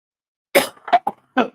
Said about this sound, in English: Cough sounds bad, but it's really not as bad as it sounds.